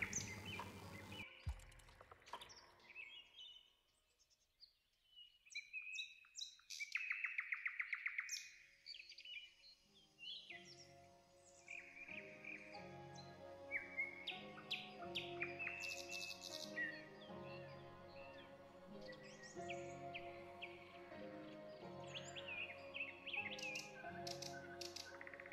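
Birds chirp and sing in a quiet outdoor setting, with bright repeated tweets and trills, some near and some farther off, building after a brief near-silent stretch and continuing in overlapping calls.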